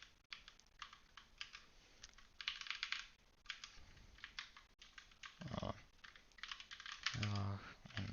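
Fingers typing on a computer keyboard to enter event details into a software form, with quiet, irregular clicking bursts and short pauses, plus a few louder low thumps near the end.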